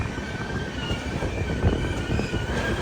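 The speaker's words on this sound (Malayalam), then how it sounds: "സേലം ജംഗ്ഷൻ റെയിൽവേ സ്റ്റേഷനിലേക്ക് ഇതാ നമ്മുടെ ട്രെയിൻ എത്തിക്കൊണ്ടിരിക്കുകയാണ്" A train pulls into Salem Junction railway station, a steady low rumble of wheels and carriages at moderate volume, with no voices over it.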